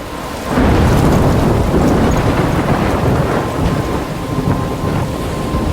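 Thunderstorm in the video game Life Is Strange: heavy, loud rain pours down with a deep thunder roll that swells early and then rumbles on steadily beneath the downpour.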